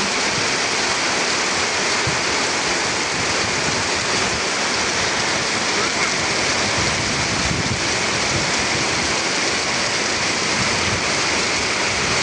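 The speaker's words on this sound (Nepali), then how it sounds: "यस्तो मुसलधारे पानी पर्यो।" Heavy rain pours down in a dense, unbroken roar, loud and steady throughout, with no voices.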